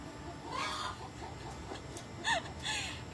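Hens on a backyard farm cackle after laying an egg, a few loud squawking bursts close by with a sharper call near the end.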